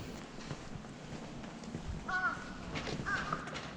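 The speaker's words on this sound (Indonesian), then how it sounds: "Ditambah cuma kedengaran suara gagak." Two distant crow caws, a second apart, over quiet outdoor ambience in a sparse residential area near Mount Hakodate, Hokkaido, Japan.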